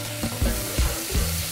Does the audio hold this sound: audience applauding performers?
no